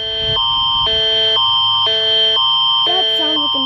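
A Canadian emergency alert system alarm tone sounds loudly in repeated, evenly spaced electronic bursts, each a harsh multi-tone blare with short gaps between.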